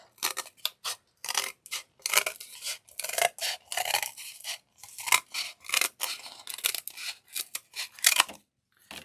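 Scissors cutting through material up close, with quick bursts of crisp snips and rasping cuts separated by short pauses.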